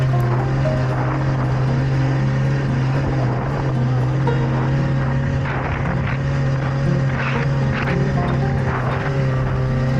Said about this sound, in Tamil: ஸ்னோ பைக் ஸ்டார்ட் பண்ணிட்டு மேலே போக ஆரம்பிச்சிட்டோம்.